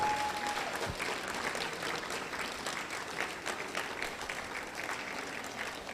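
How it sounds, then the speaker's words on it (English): Audience at a university human library talk on spirituality and academic performance claps warmly and steadily, a dense, even patter of many hands that carries on without a break from start to finish. "let's give him a warm round of applause"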